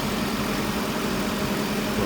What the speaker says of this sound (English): There's the fan going.